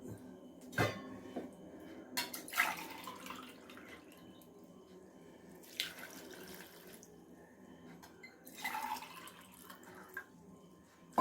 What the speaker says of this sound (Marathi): दीड ग्लास पाणी घालून